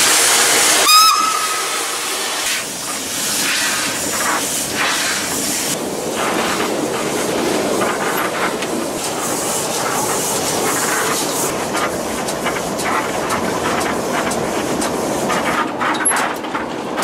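A steam locomotive pulls away from a station toward Bad Orb with a sharp whistle at the start, then continuous loud chuffing, hissing steam and rolling clatter of the train.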